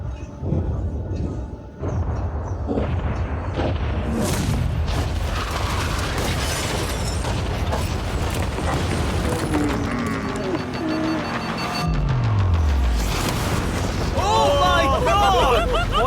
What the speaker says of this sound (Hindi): ओ धमाका।